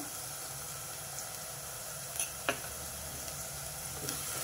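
Fenugreek leaves and onions with turmeric fry in oil, giving a soft, even sizzle with a couple of sharp clinks or scrapes near the middle; no talking.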